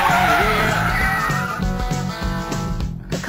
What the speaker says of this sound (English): Once you apply the brakes, the wheels stop, but the car continues to skid.